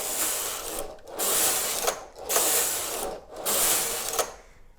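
A knitting machine knitting rows of stripes: the carriage makes about four loud, close, whooshing and clattering sweeps in a steady back-and-forth rhythm, with short pauses between them and no talk.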